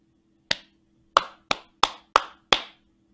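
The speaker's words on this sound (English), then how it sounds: "I'll clap it first, and then you can clap it after." Hands clap a short rhythm in a quiet room: six crisp, close claps with uneven spacing, a lone first clap, then a quicker run of five, each sharp and ringing briefly.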